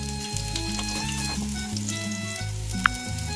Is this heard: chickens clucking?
no